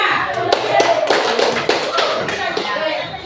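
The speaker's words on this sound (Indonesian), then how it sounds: "Jadi tepuk tangan untuk kelompok 5." Classroom audience clapping for a student group after a presentation, a steady run of dense hand claps lasting several seconds with some voices mixed in.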